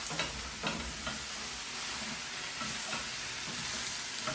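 Chicken and vegetable stir fry with green beans and corn sizzles steadily in a pan as it is stirred, with a few soft scraping strokes over the continuous frying hiss.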